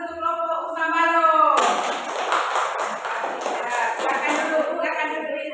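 An audience at a school group presentation breaks into applause, a dense burst of clapping that runs for about four seconds after a voice speaks and fades as another voice returns.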